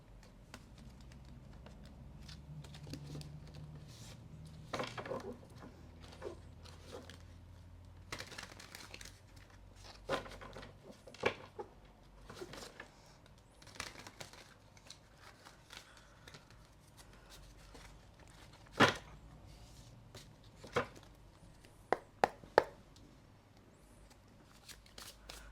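Soft riffling and tapping of tarot cards being shuffled, close and quiet, with intermittent sharp clicks and snaps scattered over a long stretch.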